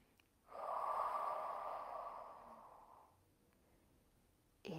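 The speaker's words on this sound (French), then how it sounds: "Et inspire libre." A single long, slow inhalation through the nose during a guided breathing exercise, close and soft, rising steadily and fading out over a few seconds in a quiet room.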